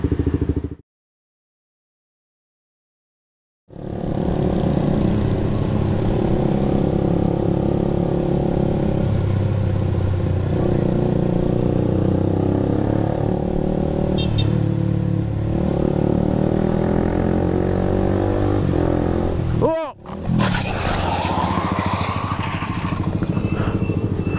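Motorcycle riding recorded in crash footage, a loud continuous engine drone with shifting pitch and wind roar that runs for most of the stretch after a brief silent gap, broken by a sharp disturbance near the end.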